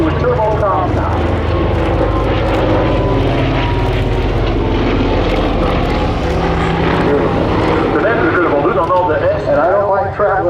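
A Lockheed Super Constellation with four 18-cylinder Curtiss-Wright R3350 radial engines flying at an airshow, a loud, sustained throbbing propeller drone throughout, with a voice talking over it.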